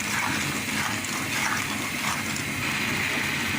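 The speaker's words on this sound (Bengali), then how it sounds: "চিনি দিলে জল ছাড়বো, এবার হতে থাক" Steady, continuous watery gush into a pot of tomato and jujube chutney that is being sweetened with sugar, close and fairly loud, with no pauses.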